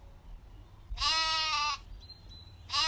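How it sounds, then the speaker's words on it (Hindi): A cartoon lamb lets out two loud, close bleats, one long and one starting at the end, with quiet pauses between. "उसके मेमने की चीख सुनाई दी"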